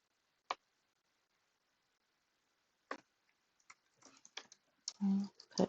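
A few isolated key clicks followed by a quick run of typing on a computer keyboard, close and fairly quiet, ending with a brief louder thump.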